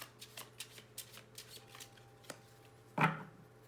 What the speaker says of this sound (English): Have some interesting energy just shuffling these cards.